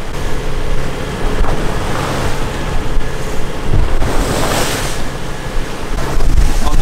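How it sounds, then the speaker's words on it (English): Rough sea off Menorca, recorded from a boat, with heavy waves and strong wind buffeting the microphone in a continuous loud roar and surges of spray. "What you see here looks like only one third of the true size of the waves."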